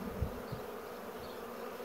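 A swarm of honeybees moving into a hive set near a wall hums as a steady, fairly faint buzz, with a couple of low thumps near the start.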